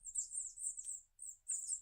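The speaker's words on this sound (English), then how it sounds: "Are the birds in my office?" Birds chirping in an office setting, quick high tweets in two bursts with a short gap, faint and somewhat distant, with no talking.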